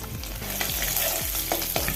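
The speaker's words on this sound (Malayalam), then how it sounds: "രണ്ട് ടേബിൾ സ്പൂൺ ഓയിൽ ഒഴിച്ച് കൊടുക്കാം അര ഇഞ്ച് നീളത്തിൽ ഇഞ്ചി ചെറുതായി അരിഞ്ഞതും ഏഴെട്ട് അല്ലി ഒഴുത്തുള്ളി ചെറുതായി അരിഞ്ഞും കൂടി ഇട്ട് കൊടുത്ത്" Chopped ginger and garlic fry in two tablespoons of oil in a pan, giving a steady close sizzle with a few stirring scrapes over about two seconds, no talking.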